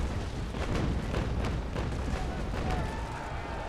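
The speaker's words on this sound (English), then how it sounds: "my cannons are being reloaded, meaning that I can once again get ready for a broadside" A rapid broadside of booming ship cannon shots in the game Naval Action rolls out in a quick volley, dull and heavy, with a continuous low rumble underneath.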